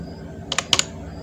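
Several quick computer-keyboard keystrokes come in two pairs of clicks near the middle, fairly faint over a low background hum, while HTML is typed into a page.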